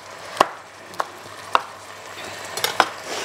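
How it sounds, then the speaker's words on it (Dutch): A kitchen knife chops food on a cutting board while a dish of aubergine and bacon is being prepared, giving four or five crisp, separate knocks spaced about half a second apart, close and clear with no talking. "Even deze nog snel snijden."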